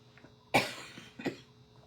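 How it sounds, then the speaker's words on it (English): A single sharp cough, then a second softer one about a second later, close and fairly quiet against a still background, from a lung issue. "If you guys hear me coughing, it's a lung issue"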